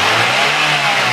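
A 1.3-litre engine in a 2014 Daihatsu Gran Max pickup is revved hard, a loud, close, sustained roar with no voices over it.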